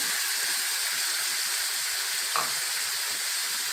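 Onions, crushed garlic and green peppers frying in a pan, a constant dense sizzle close up with one brief stir partway through, no voices.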